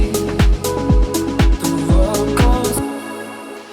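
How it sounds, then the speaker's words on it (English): Snare drum roll build in a melodic house track, with tight rhythmic hits over a repeating kick and bass pattern that accelerate and stack up, loud and upfront, before cutting to a brighter sustained pad. "Got the drum, snare roll build."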